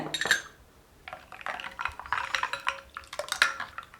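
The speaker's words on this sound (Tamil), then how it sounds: "ஒரு நாலு ஐஸ் க்யூப் சேர்த்துக்கிறேங்க" Several ice cubes drop and clatter into a glass of pomegranate juice, with a run of close, bright clinks and knocks spread over a few seconds, quiet and without talk.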